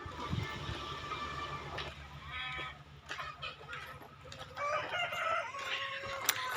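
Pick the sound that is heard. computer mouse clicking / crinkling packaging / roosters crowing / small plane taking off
roosters crowing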